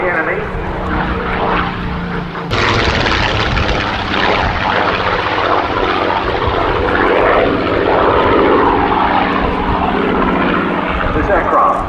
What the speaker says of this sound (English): the Spitfire is able to bring its own armament to bear. And there it is, strafing the enemy.